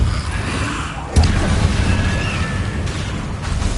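A Depulso force spell from Hogwarts Legacy lands with a sudden booming impact midway, set against a steady background of game ambience and a faint whistling tone.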